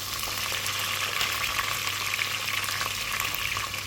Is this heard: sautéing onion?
yes